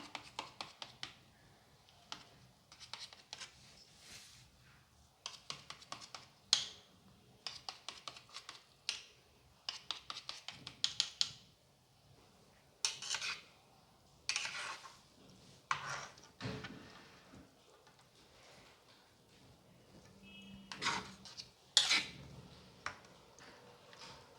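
Knife cutting set ragi mor koozh, made from ragi flour with buttermilk, chilli and coconut oil, into pieces in a pan: soft irregular tapping and scraping clicks in bursts, faint and close, with no voices.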